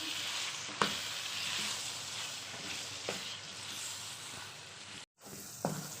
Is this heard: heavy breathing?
no